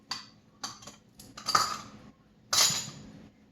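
A metal measuring cup and measuring spoons clink and rattle in a kitchen, producing several short bright jingles close by, with a longer clatter near the end.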